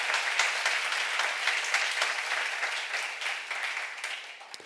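An audience at a church seminar breaks into dense, sustained applause that fills the room and slowly fades toward the end.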